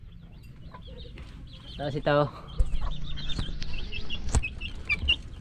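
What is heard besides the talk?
chickens clucking, pumpkin hatch crossbreed chicks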